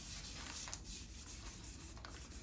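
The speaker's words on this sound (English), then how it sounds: "Just give it a light scuff with the gray Scotch-Brite pad" A gray Scotch-Brite pad lightly scuffs a goalie mask before painting, giving a faint, continuous close rubbing with soft rhythmic strokes.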